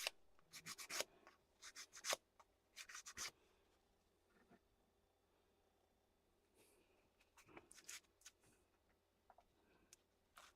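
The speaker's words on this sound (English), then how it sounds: "these I'm just going to give a quick sand over" Parts are hand-sanded for a quick key, giving short clusters of faint rasping strokes near the start and again later, separated by a quiet gap.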